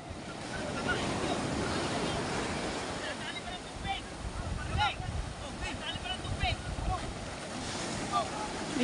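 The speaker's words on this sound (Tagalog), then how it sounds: "Ayun, naanuhan siya, nabaksakan ng alon at nagkatubig ka pong tubig." Ocean waves wash and splash against a small wooden fishing boat out at sea during lobster fishing, with steady wind rumble and scattered water sloshes throughout, fairly faint.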